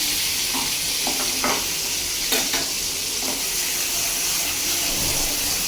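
Fish frying in a pan in a home kitchen gives a steady, loud sizzle and hiss, broken by a few clinks and stirring scrapes.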